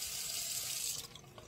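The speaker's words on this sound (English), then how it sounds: "When we do our dishes, we have to let our water run." Water runs steadily from a kitchen tap into a sink, a continuous bright hiss that tapers and eases off near the end, with no voices.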